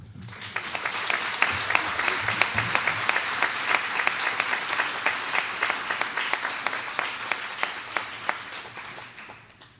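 Sustained applause from a banquet audience honoring award winners at a chamber of commerce annual dinner, dense steady clapping filling the room throughout, with sharp individual claps standing out and no talk over it.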